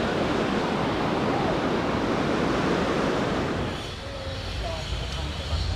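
Ocean surf washes steadily onto a beach in Bali, a broad, loud roar of breaking waves that eases slightly near the end, with faint voices under it.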